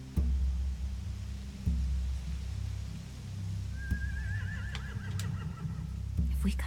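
A horse whinnies briefly in an outdoor setting, a short, shaky neigh rising over a low rumbling background with occasional thumps.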